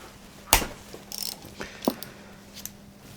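Ratchet undoing T50 bolts on the seat carrier of a 2017 Triumph Bobber with the small tank, a few sharp close clicks in short bursts with quiet pauses between.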